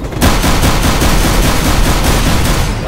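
Gunfire in the video game Counter-Strike: Global Offensive during a co-op mission, heard as a loud, dense run of rapid shots with no pauses in between.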